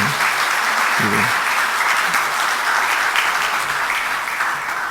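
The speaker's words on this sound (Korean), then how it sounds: "박수로 한번 격려하십시다" A church congregation at a Sunday evening service claps steadily and densely throughout, with a faint voice briefly audible beneath.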